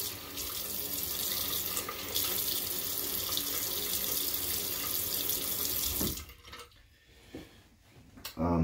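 Tap water runs in a steady, loud rush for about six seconds while the face is wetted before shaving, then the flow cuts off, leaving a few close splashes and drips.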